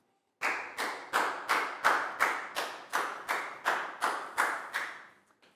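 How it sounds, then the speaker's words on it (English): A classroom of pupils gives a round of clapping for a classmate, about a dozen distinct, evenly spaced group claps in a steady rhythm, close and clear with no talk over them. "Big round of applause for Nadia"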